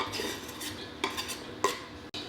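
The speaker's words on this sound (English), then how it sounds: "He's just kind of mixing this up, and you can see all the little bits of onions and the garlic in there" A utensil stirs garlic and onions in a pot, scraping and clinking against the metal in a steady, close rhythm over a soft sizzle, with no voices.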